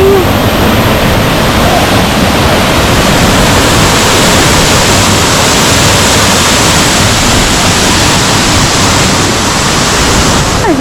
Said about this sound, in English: we made it to the first waterfall and it's amazing!